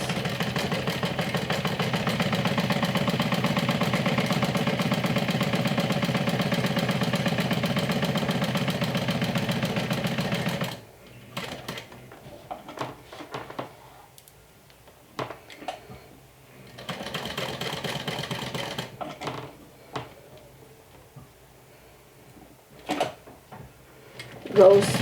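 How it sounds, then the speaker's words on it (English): A sewing machine stitches around the handle of a vinyl crossbody tote, running through several layers in a long continuous hum for about ten seconds, then shorter bursts of stitching with pauses, close by, with some talk in the quieter stretches. "I will go ahead and stitch all around the handle."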